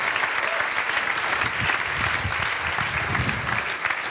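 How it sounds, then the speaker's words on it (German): An audience at a live German radio satire show applauds warmly to welcome a guest, a dense, even burst of clapping that holds steady for a few seconds without any talking. "Bitte begrüßen Sie mit einem warmen Applaus"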